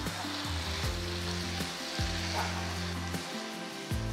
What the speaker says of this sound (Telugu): ఇప్పుడు ఉడికించిన మటన్ ముక్కల్ని ప్యాన్లో వేసి కలపాలి